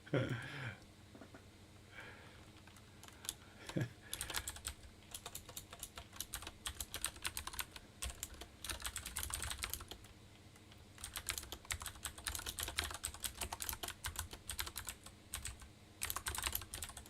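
Quiet clicking of a computer keyboard during game development work, arriving in irregular bursts of rapid keystrokes with short pauses between them, close and soft throughout.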